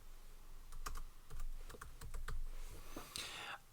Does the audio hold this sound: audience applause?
no